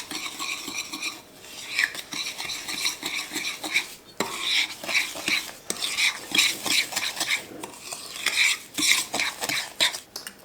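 A spoon scrapes and clinks against a bowl as cake batter with vanilla extract, oil, and a coconut oil and butter mixture is stirred, producing irregular close rhythmic knocks and swishes with no talking.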